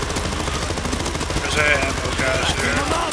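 Rapid automatic gunfire in the zombie shooter game World War Z, dense continuous bursts filling the whole stretch, with a voice faintly underneath.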